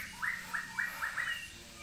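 Straw-headed bulbul chicks calling close by: five short rising chirps in a quick, even series over a faint low hum.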